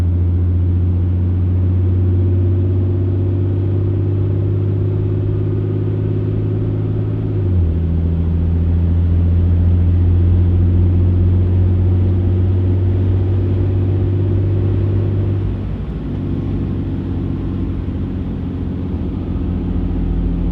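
A loud, deep Cummins diesel pickup engine drones steadily throughout, with a low rumbling dumped-exhaust tone that shifts pitch a couple of times as the truck cruises along an open road.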